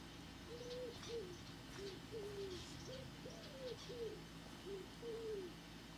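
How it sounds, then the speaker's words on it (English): Doves cooing in a video game set near a jungle village: a string of soft, rounded two-note coos repeating every half second or so over a constant low ambient hum, moderately near and quiet. "I hear doves somewhere."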